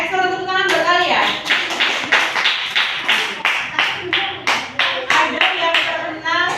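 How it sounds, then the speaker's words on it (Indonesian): A group in a classroom session claps hands in a rhythmic, patterned burst of roughly a dozen loud, close claps, with a voice heard briefly at the start and faintly alongside. "Ekstra tepuk tangan buat kalian."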